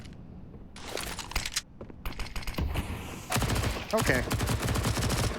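Rapid bursts of MP9 submachine gun fire in a professional Counter-Strike match on the Vertigo map, crackling near and loud in several volleys that build into heavier continuous shooting, with a brief spoken word mixed in.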